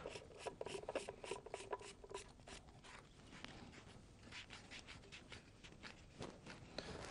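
Threaded 1.25 inch pipe fitting being screwed onto the other end of a pipe in a Clamp-it system, giving a steady dry rasping, rubbing scrape with repeated short strokes, close and fairly faint, with no talk.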